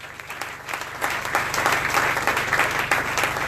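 A church congregation claps and cheers in praise, dense steady applause filling the space throughout, loud and sustained with a slight swell toward the end.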